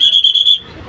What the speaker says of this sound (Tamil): விசில் அடிக்கிற சத்தம் கேட்குது பாருங்கள்.